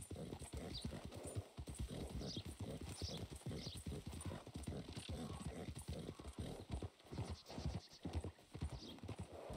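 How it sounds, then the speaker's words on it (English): Horse hooves clip-clop steadily in Red Dead Redemption 2, a continuous rhythmic trot of hoofbeats close up, with an occasional faint whinny and brief muttered speech over them. "Damn horse."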